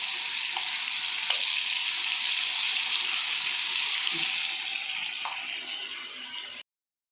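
Ginger paste sizzling and frying in hot oil for a chicken pickle, a steady broad hiss with a few faint stirring clicks, close and continuous with no talk, cutting off abruptly near the end.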